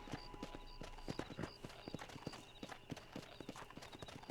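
Horse hooves clip-clopping in Red Dead Redemption, a steady quick rhythm of hoof strikes with faint jingling tack, moderately quiet and close, with no talking.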